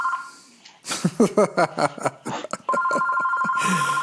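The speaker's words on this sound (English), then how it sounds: "so my phone stop ringing" A telephone rings in a podcast recording, first a short burst, then people talking over a pause, then a long steady ringtone that carries on loud and close to the end.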